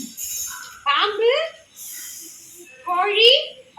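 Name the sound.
child imitating a snake hissing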